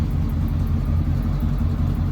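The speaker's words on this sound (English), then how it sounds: "Listen here. Just kind of regular exhaust. It's not cammed out or anything." A 1985 Chevrolet C10 Silverado pickup with its stock, uncammed exhaust idles with a smooth, deep rumble. It is heard close and alone, with no talk over it.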